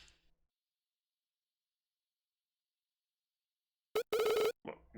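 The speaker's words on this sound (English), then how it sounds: "This tripod made a noise when I pressed the button on the keyring." In a video game, a tripod gives off a short, bright electronic ringing chirp after pressing a keyring button, heard as two quick bursts after near silence.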